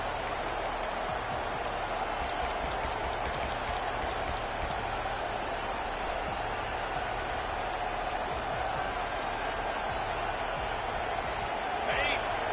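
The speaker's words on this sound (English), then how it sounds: "This crowd trying to make life miserable for this offense" Steady, dense roar of a stadium crowd at a football game during a kickoff and the start of an offensive drive, a continuous broad wash of noise with scattered claps and shouts, unbroken for the full stretch.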